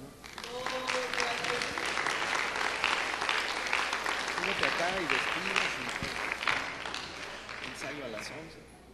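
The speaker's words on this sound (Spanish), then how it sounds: "Dale un aplauso." A church congregation claps together after a service offering, a continuous wash of applause that swells in quickly, holds steady and tapers off at the end, with voices and some tonal sounds mixed in.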